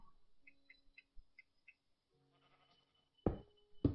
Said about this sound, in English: Hey, I heard a sheep.